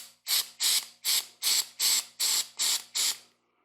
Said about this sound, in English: I'm going to start with this electronics super HFE electronics cleaner